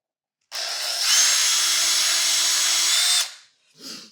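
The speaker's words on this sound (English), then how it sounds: "I think drilling this little hole will make it a little bit easier" A power drill bores a small starter hole into wood, a loud whining burst that rises in pitch and runs steadily for under three seconds, then stops, followed by a short fainter whir.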